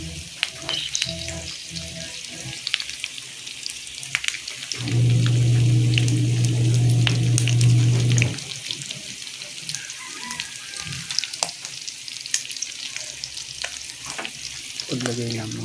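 Onion and garlic frying in cooking oil for adobo, a loud steady sizzle that swells for a few seconds in the middle, with quieter clinks and stirring before and after and no talk.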